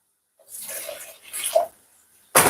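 Water poured into a hot pan of pork to deglaze it hits the surface in two hissing, splashing bursts, and a third sharp, loud sizzle erupts at the end, all close up.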